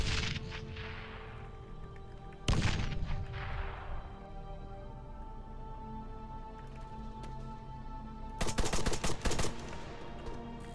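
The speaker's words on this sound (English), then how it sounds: "that guy up there is shooting at this guy" Gunfire in ArmA 3 during a castle assault: a sharp broadband shot near 2.5 seconds and a rapid burst of shots around 8.5 to 9.5 seconds, with a reverberant tail over steady ambient background.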